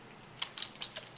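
Four or five light clicking keystrokes on a computer keyboard, close and quiet, typed quickly with a few short gaps between them.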